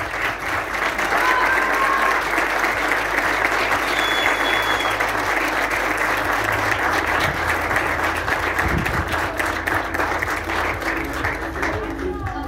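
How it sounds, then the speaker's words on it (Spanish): Sustained, dense audience applause at an endurance horse-riding award ceremony in Argentina, a steady wash of many hands clapping for the podium finishers, with faint voices mixed in. "más que merecido ese fuerte aplauso"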